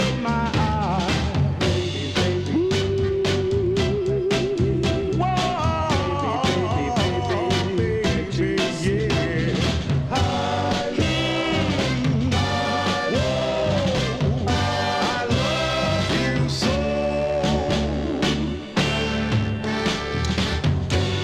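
A 1966 Detroit soul record plays loud and steady with full band and a lead vocal line, continuous throughout with no talk over it.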